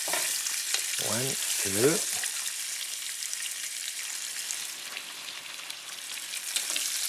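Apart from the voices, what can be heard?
quail frying skin side down in olive oil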